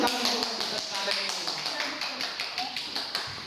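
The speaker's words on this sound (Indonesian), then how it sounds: "Ya, tepuk tangan." A classroom of students claps in a quick, light, irregular patter during a school lesson, close and moderately loud, with voices talking underneath the clapping.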